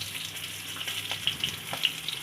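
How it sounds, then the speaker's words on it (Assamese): Whole cumin seeds splutter and sizzle in hot cooking oil, with small crackling pops rising above a steady frying hiss, close and fairly quiet. "ইয়াত দেখিছেনে জিৰা কেইটা ফুটিবলৈ আৰম্ভ কৰিছে"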